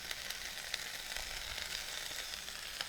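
Cooked sweet potatoes hitting a hot pan set off a steady, fairly loud sizzle with faint crackles across the whole stretch, and no one speaks.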